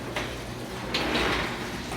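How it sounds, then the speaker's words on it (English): A squeaking garage door moves along its tracks after they have been lubed, rolling and rumbling steadily with short scraping squeals in between and no talk. "the door's still squeaking"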